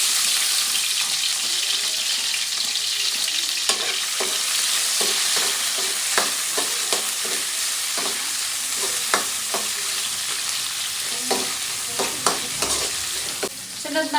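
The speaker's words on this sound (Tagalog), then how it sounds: "igigisa muna natin yung sibuyas sa bawang" Onion and garlic sauté in hot oil for monggo with tinapa and chicharon, a continuous loud sizzle broken by repeated scraping stirs of a utensil against the pan, close up and with no talking.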